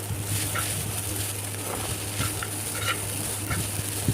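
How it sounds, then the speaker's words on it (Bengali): An egg frying in oil for noodles gives a steady close sizzle and crackle, with a constant low hum underneath and a few soft scrapes; no voices. "এখানে আমি আমার নুডলসের জন্য ডিমটা ভেজে নিচ্ছি"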